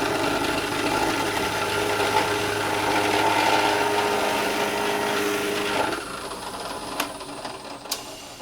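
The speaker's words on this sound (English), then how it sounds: "I've got a reamer bit. So it's going to widen the outside of this hole just a bit" A reamer bit widens a hole in wood while routing a battery box into a Squier Jazz Bass body for a Bartolini preamp, giving a steady grinding, rasping drone for several seconds, then stops, followed by a couple of sharp clicks.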